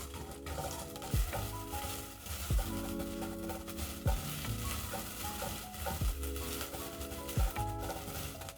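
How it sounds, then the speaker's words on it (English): A medium onion frying in cooking oil sizzles steadily while a spoon scrapes the pan in regular strokes about every two seconds, close and without voices. "So I'm going to cook my onions until soft."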